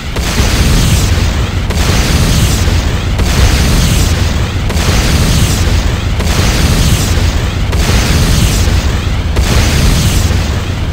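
A Tiberium Refinery explodes in Command & Conquer Renegade, a loud, continuous roar of blasts and rumbling debris with a rhythmic pulsing, sustained throughout with no talk.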